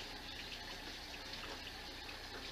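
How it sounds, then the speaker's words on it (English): Tap water runs steadily for hand washing in a massage therapy room, a faint, even rushing hiss with no break and no voices. "I'm also going to wash my hands"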